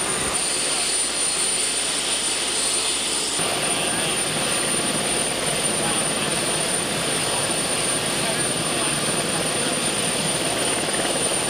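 A steady, loud roar with a high whine from moving aircraft engines drones on without letup, masking any faint voices underneath.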